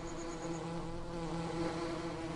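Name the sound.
bees buzzing around a hive in video game Farming Simulator 17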